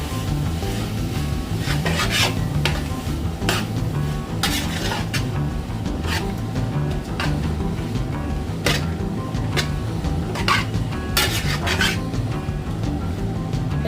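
Vegetables with carrots frying in a pan, stirred steadily with repeated scraping and rasping strokes over a constant sizzle, close and even throughout with no talking.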